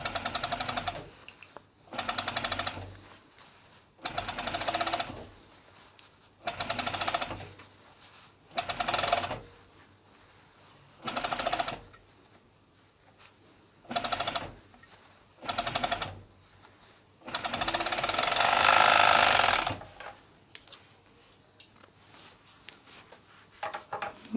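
An overlocker stitches ribbing cuffs onto a hoodie in short bursts of fast, even whirring, stopping and starting about ten times with quiet gaps, one longer louder run near the end.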